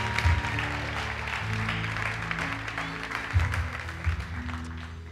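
A church congregation claps steadily in a large room, a sustained wash of applause with low rumbling thumps underneath.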